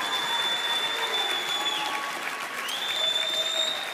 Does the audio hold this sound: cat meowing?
no